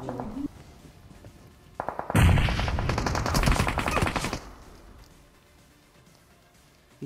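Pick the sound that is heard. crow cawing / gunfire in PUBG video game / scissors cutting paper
gunfire in PUBG video game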